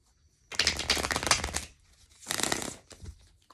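Tarot cards are shuffled in two quick riffling bursts, close and crisp, with a pause between them and no talking.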